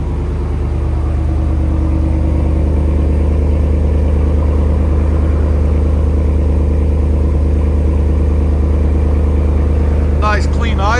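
A 2022 Ram 2500 pickup's 6.4-liter HEMI V8 with a Flowmaster Outlaw exhaust idles steadily with a deep low rumble, close by, then briefly revs higher near the end.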